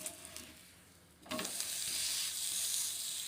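Oil sizzles steadily under a ragi flatbread frying on a hot pan, a soft crackle that jumps louder after a brief quiet moment and keeps frying without any talk.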